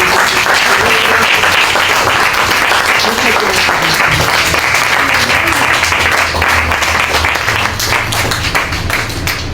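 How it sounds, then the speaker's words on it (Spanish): Loud, sustained applause from a church congregation, dense clapping filling the space steadily from start to finish with a faint murmur of voices underneath. "Démosle un fuerte aplauso."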